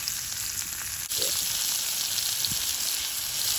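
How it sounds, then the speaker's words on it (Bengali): Hot oil crackles and sizzles steadily as loitta (Bombay duck) fish fry in a pan, with a couple of faint clinks, no talking. "তেলটা গরম হয়েছে এক এক করে লোটে মাছগুলো দিয়ে দেবো"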